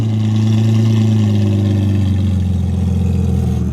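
A BMW race car engine revving loudly with the exhaust cutout open, a close, steady, throaty drone that holds its pitch and then settles slightly lower toward the end.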